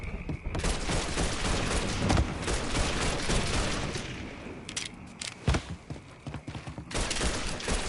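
Sustained gunfire and explosive booms from a Mafia 3 Definitive Edition shootout, dense overlapping shots with sharp louder bursts near the end, loud and continuous.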